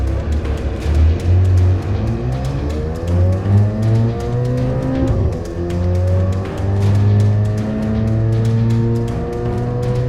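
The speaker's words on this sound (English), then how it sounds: "Oh, we're doing the roll race against the Amira." A Corvette C8 Z06 and a Lotus Emira accelerating hard side by side in a roll race, with loud engine notes rising steadily in pitch through the gears and brief dips at each shift.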